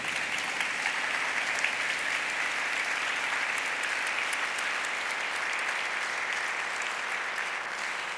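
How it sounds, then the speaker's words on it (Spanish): A film festival audience in Valparaíso gives the filmmakers a long, steady round of applause, an even wash of many hands clapping that continues without pause. "Le pedimos nuevamente un gran aplauso a los realizadores."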